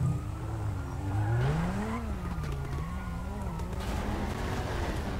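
Car in GTA RP driving with engine drone and a sliding, wavering tire skid, steady and fairly loud throughout, with faint voices underneath.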